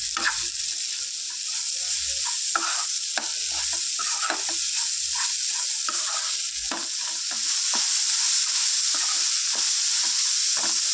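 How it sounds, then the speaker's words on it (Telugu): Cut bitter gourd, about 250 grams, frying in a pan, a loud constant sizzle under quick repeated stirring and scraping of the spoon, close and with no talk. "కట్ చేసుకున్న బుడకాకరకాయ టూ ఫిఫ్టీ గ్రామ్స్ వేసుకొని ఫ్రై చేసుకుందాం"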